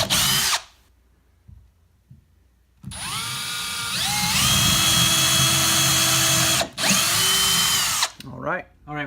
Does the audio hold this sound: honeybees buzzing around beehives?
no